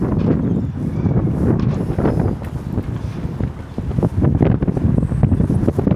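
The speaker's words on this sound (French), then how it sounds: "j'espère qu'il n'y a pas trop de vent" Strong wind buffets an outdoor microphone with a continuous low roaring rumble and gusty surges, loud throughout and with no talk.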